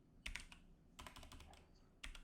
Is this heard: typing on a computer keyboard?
yes